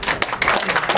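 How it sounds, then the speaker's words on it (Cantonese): Audience applause for two child actors at a post-screening event in a Kennedy Town cinema, brisk clapping from a crowd with rapid overlapping claps across a brief moment. "打啲掌聲，我呢兩個小演員都好犀利"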